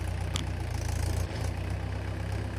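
A tractor engine runs while puddling mud in a field, giving a steady, loud, close low rumble with a throbbing idle pulse throughout and no voices.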